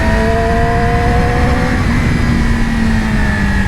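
A 2020 Yamaha R6 sport bike engine pulls hard at full power on twisty mountain roads, a loud continuous high-pitched howl with rising tonal whine and heavy wind roar, no voices.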